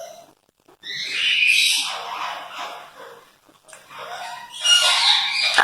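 A gray parrot mimics a koel's call in two loud, bright whistling bursts separated by a short pause, close to the listener with no talking over them.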